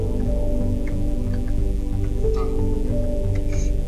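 Rain in the horror video game Five Nights at Freddy's 5 falls as a steady patter across the whole stretch, mixed with the game's low droning ambience and a few faint tones. No one speaks.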